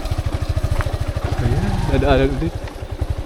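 A motorcycle rumbles steadily nearby while riding on a beach, its engine giving a regular low chug throughout as people talk over it.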